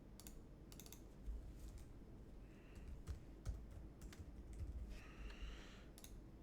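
Quiet clicks of typing on a computer keyboard come in scattered short bursts and single taps, soft and close against a faint background hum.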